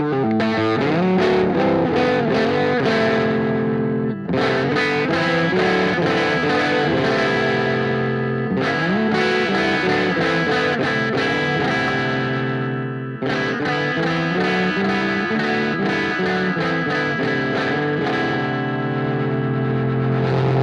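Electric guitar driven through a fuzz pedal, loud and saturated with a thick, buzzing 1970s-style tone, playing continuous chords and riffs with brief breaks between phrases.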